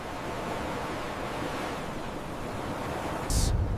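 Ocean waves surge and roar as the sea gathers force before a tsunami near Dubai, a steady broadband wash of surf with wind rumble, swelling louder near the end.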